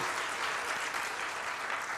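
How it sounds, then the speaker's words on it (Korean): A church congregation applauds the worship service participants, dense sustained clapping from many hands filling the room, loud and steady throughout with no clear speech over it. "모든 예배 순서자에게 박수하겠습니다."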